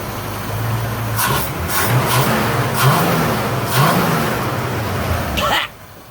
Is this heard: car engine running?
yes